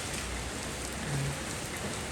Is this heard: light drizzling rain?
yes